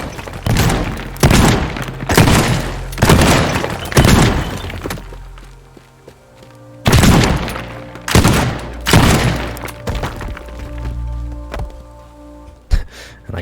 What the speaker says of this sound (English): we're pretty much going to use most, if not the rest of our shotgun shells just to make a really big, kind of elongated hole